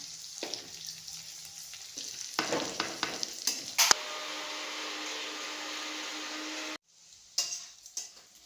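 Spices such as chilli and turmeric stirred and frying in a pan until lightly browned, with sizzling, clattering stirs and scrapes at close range, an intermittent hiss and a short pause before stirring resumes.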